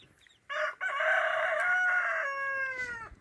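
A rooster crows once, loud and close, a long drawn-out call with a faint cluck just before it, among a flock of chickens.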